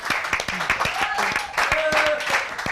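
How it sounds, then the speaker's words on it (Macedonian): Studio audience applause on a television talk show: dense, steady clapping across the whole stretch, with voices talking over it. "И завршува аплауз."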